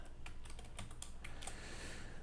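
Quiet, rapid clicks of fingers typing on a computer keyboard while filling in an interview form, keystrokes irregular and close, with no speech.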